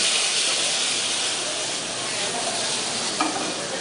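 Prawns tossed back into a hot pan of pasta sauce, a loud continuous sizzle and hiss with a brief clack of stirring near the end.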